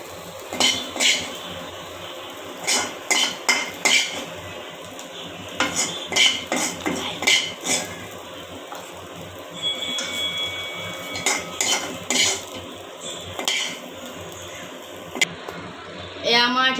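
A metal spoon repeatedly clinks and scrapes against a pan while fried dhekia fern greens are scooped into a bowl, with bursts of close, sharp clatter separated by short pauses.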